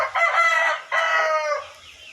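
A rooster crows loudly and close by, two drawn-out calls in quick succession, followed by quiet.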